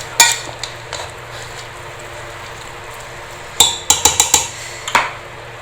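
Barley and wheat being stirred together in a cooking pot for degi haleem, with a few clanking scrapes of a spoon against the metal, a sharp clatter at the start and a quick burst of knocks near the end.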